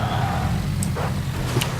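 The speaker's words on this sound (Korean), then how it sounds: "뒤에 차 소리 나는데?" A car engine rumbles steadily from behind the player in the Mad Max video game, a continuous low drone with brief higher clanks, moderately loud and with no speech.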